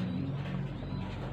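Pigeons in a loft give a low, throaty coo, close and steady, over a faint background hum.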